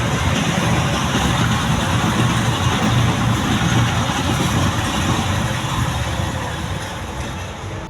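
A steady, loud rumble of a train rolling past nearby, continuous for several seconds and easing slightly at the end.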